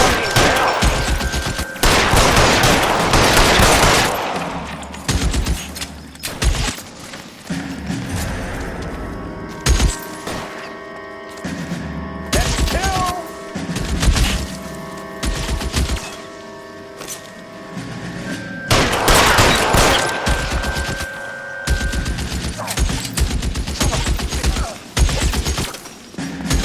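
A sustained shootout rages in L.A. Noire with 1940s Los Angeles police weapons. Loud clusters of rapid gunfire give way to quieter gaps with scattered shots, then another heavy volley.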